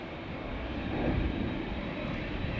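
A KLM Boeing 787-9 Dreamliner bound for Calgary rumbles at Amsterdam Schiphol with a steady, broad jet engine roar, moderately loud and unbroken, with no voices.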